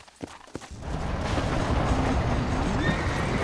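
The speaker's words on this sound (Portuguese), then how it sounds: "Tô ensinando a andar com o cavalo, né?" A horse in the Red Dead Redemption video game whinnies and walks, and its hooves clip-clop under a steady outdoor game ambience after a few sharp clicks at the start.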